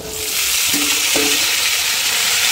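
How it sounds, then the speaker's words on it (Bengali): Potatoes, chillies and pointed gourd frying in a pan, a loud, steady, close hiss of hot oil with a couple of brief knocks from a utensil. "আলু লঙ্কাটা একটু ভেজে নেব পটলের সাথে"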